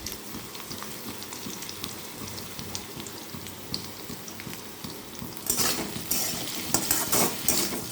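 Vegetables for poha, seasoned with turmeric and salt, fry with a continuous soft sizzle as a utensil scrapes and stirs the pan. The stirring grows louder and busier near the end, with no talking.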